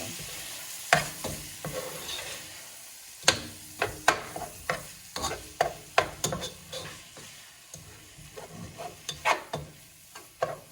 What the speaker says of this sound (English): So we're gonna let this ground turkey cook.